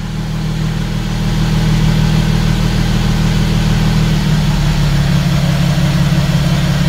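An Audi V6 TDI diesel car engine idling close by in a steady, low rumble that holds for several seconds.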